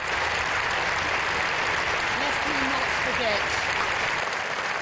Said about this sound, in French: Des applaudissements nourris et émus ont suivi l'hommage rendu en silence.